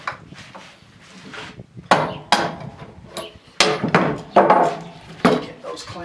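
Metal clamps knocked loose from a glued-up wooden board, a series of sharp hard knocks and clatters, some doubled, arriving irregularly over a low room background with no talking.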